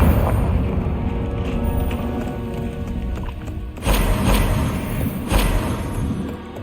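Confringo blasting curse explosions in Hogwarts Legacy: two heavy, booming blasts land a second and a half apart over a dense, steady bed of game ambience and hoof-like clatter.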